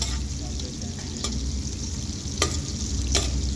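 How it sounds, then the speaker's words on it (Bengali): Garlic sizzles in a pan of olive oil and butter as the base for biryani rice, a steady close frying hiss with a few soft stirring knocks and scrapes. "এখানে আমরা দিয়ে দিলাম হালকা অলিভ অয়েল প্লাস বাটার, এবং এখানে রসুন দিয়ে নেওয়া হয়েছে"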